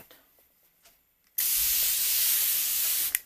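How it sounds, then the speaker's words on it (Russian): A facial mist spray bottle of hyaluronic acid gives one steady, close hiss of fine spray lasting about two seconds, then stops abruptly after a quiet start. "я распыляю прям как на лицо, так и вот на вот эту область декольте"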